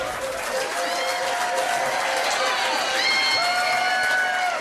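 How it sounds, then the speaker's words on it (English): Applause and cheering for the winners of a pub trivia quiz at The Granta fill a steady, dense crowd din, with shouts and whoops rising above the clapping throughout. "give them a round of applause"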